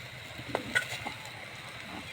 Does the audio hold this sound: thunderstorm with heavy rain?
no